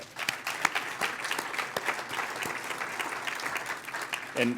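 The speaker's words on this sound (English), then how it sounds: "So give a round of applause, please, to Sheila." At a United Way annual meeting, an audience applauds in a steady, somewhat distant round of clapping, with a few louder claps and a brief voice rising at the very end.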